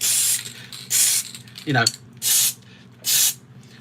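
Aerosol can of primer sprayed in three short, loud bursts of hiss at even intervals, with a rattling shake of the can in between and someone talking briefly.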